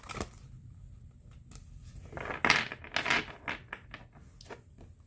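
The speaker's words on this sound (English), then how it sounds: "I'm going to shuffle the cards" Oracle cards from a House of Night deck being shuffled by hand, giving a quiet run of soft riffling and flicking sounds that builds to a denser burst midway, then trails off into scattered taps.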